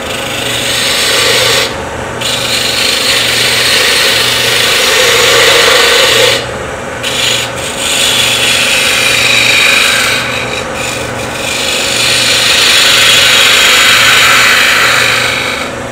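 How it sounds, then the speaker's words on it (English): Shallow fluted gouge cutting sycamore on a woodturning lathe while shaping a bottle stopper, a steady close rasping scrape that swells and fades in long passes over a constant low motor hum, with brief pauses between cuts. "So now I'll go on to my shallow fluted gouge, completing the shaping here"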